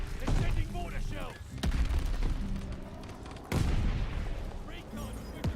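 Mortar shells fire in a video game, heavy booming thuds and rumbling blasts rolling one after another over a dense, noisy battle backdrop.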